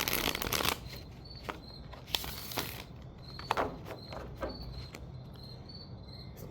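Tarot cards being shuffled by hand, a run of crisp riffling and slapping bursts spaced out over several seconds, close and fairly quiet, over a faint background chirp of crickets.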